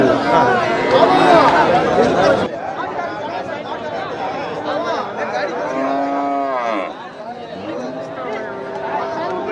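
Cattle moo repeatedly at a busy Tamil Nadu cattle market in Karimangalam, long low calls rising over constant crowd chatter and people talking nearby.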